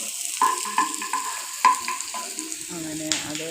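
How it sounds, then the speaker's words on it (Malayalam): Chilies frying in coconut oil in a pan, a close, crackling sizzle broken by repeated clinks and scrapes of a stirring spoon, with a brief tonal metallic ring toward the end. "വെളിച്ചെണ്ണ കൂടി ഒഴിച്ചിട്ട് മുളക് മാത്രം മൂപ്പിച്ചെടുക്കുക"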